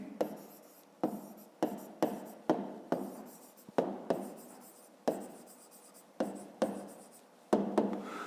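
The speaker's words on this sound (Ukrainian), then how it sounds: "Ну і записуємо їх." Numbers written by hand for a fifth-grade maths exercise, a close series of pen strokes on paper, each one a short scratchy burst that trails off, about a dozen in slow irregular rhythm, with no speech.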